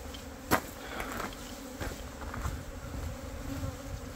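A honeybee swarm pours out of the hive with the queen among it, a dense, steady buzzing of many bees close by, broken by a sharp sudden thump early on, with no talking.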